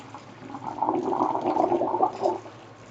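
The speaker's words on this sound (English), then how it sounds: "I'm going to pour this water out" Water poured out of a cooking pot during borscht preparation, a loud splashing gush that builds, runs for about two seconds and then tails off.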